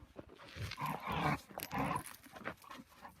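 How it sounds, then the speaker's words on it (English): Dogs play wrestling, with close rough growls, snorts and scuffling in uneven bursts over a couple of seconds. "puppy wrestle, puppy wrestle"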